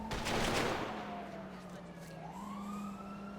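Rifle salute volley at a funeral in a video game, a burst of gunfire at the start followed by a wailing siren that rises and falls behind it.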